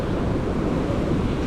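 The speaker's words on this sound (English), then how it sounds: "Since the tank is now nearly full, couple of doors are open. You can see how the water flow is." Water gushing through a couple of open sluice doors of a nearly full dam at Tabbowa tank in Puttalam, Sri Lanka, a steady, loud, broadband rush without pause.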